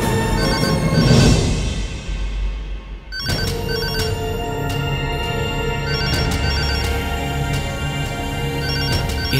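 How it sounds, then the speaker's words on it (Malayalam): A telephone rings loudly with a repeating electronic ringtone, its chiming pattern cycling again and again after a brief swell of other sound at the start, with no talking. "എത്ര നേരമായിട്ട് ഫോൺ അടിക്കുക?"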